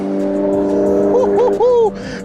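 A 650 bhp Stage 2 Mercedes C63S and a 350 bhp tuned Mini accelerate hard side by side in a drag race, engines droning loud and steady with rising gear pulls, a brief dip at a shift, then pulling on.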